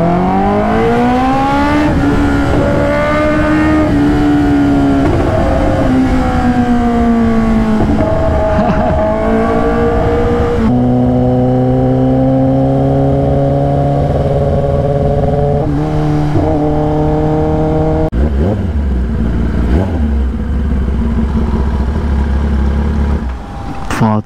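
A Kawasaki H2R motorcycle engine revs and idles nearby, its pitch climbing and dropping through several throttle blips, loud and rumbling, with a few voices faintly underneath.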